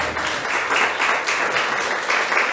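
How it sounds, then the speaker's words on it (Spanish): Congregation applauding at a church service, steady dense clapping sustained and fairly loud throughout, with faint voices mixed in. "dale fuerte ese aplauso a Cristo"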